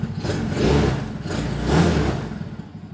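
Small engine of a Coolster mini jeep, running with no choke, a close, low, rumbling idle that swells twice as the throttle is blipped, with no talk.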